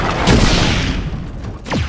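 Video game gunfire sound effects erupt in a dense burst of booming shots, loud and close, fading slightly before another blast near the end, with no voices.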